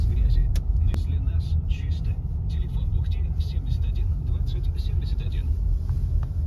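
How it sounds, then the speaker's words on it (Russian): A car rolls in through an open gate in the village of Yarega, Komi Republic, giving a steady low engine rumble at moderate distance while people talk quietly over it. "О, на машине заезжают."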